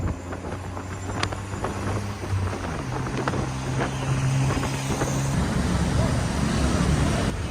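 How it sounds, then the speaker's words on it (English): Tuk-tuk ride through Bangkok traffic from Chinatown toward Sukhumvit, small engine droning and shifting pitch under wind rush and passing road noise, with scattered clicks and sharp transients along the way. "we're going to hop on the back of a tuk-tuk for 200 baht"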